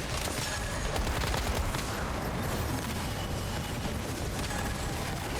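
Dense, continuous gunfire in the survival shooter Once Human, a busy crackle of overlapping shots and mechanical clatter at moderate volume with no pauses.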